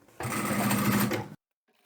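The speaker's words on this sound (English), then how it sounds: "we just want to top stitch straight down like we did at the top end" Sewing machine top stitching fabric for a hanging shoe-rack door organizer, a single steady run of about one second that stops abruptly into silence, close and fairly loud.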